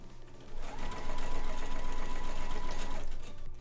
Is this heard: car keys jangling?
no